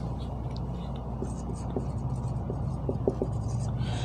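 During a lecture on purines, something writes on a board in short scratchy strokes, quiet and close, over a low background hum.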